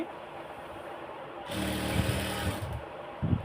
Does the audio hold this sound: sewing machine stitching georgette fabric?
yes